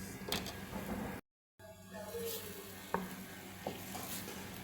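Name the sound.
chicken strips added to a pan, sizzling and stirred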